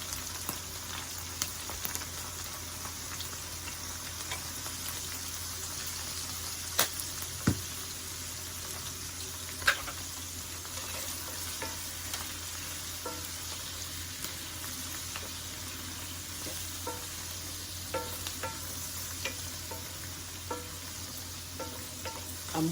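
Onions sizzle steadily in a pan for herby mac and cheese, a close continuous frying hiss with occasional scrapes and knocks as they are stirred.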